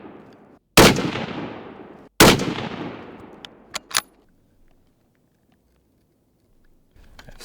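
.243 rifle shots with Hornady Precision Hunter rounds ring out at a 50-yard range, two loud cracks each followed by a long fading echo, then fainter sharp pops.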